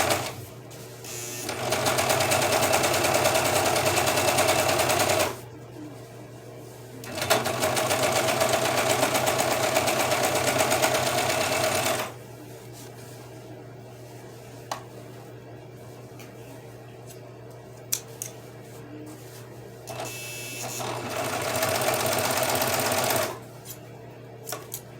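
A sewing machine stitches two pieces of a simple pair of pants together in three sustained, loud whirring runs of several seconds each, separated by quieter pauses with faint handling clicks.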